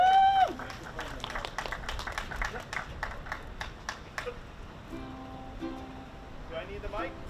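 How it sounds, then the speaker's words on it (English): An outdoor audience at a Lynn Pride flag raising claps in a round of applause for a singer, scattered hand claps that thin out over several seconds while a voice speaks over them. "Let's give Sunil a round of applause."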